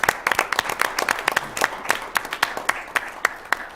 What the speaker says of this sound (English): How about another round of applause for our fire department?